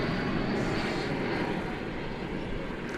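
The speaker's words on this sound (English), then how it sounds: "We've got flight coming in, flight 54 American Airlines from Phoenix" A passenger airliner, American Airlines flight 54 from Phoenix, coming in to land at Dallas/Fort Worth airport, producing a steady, broad engine roar that holds at an even loudness throughout.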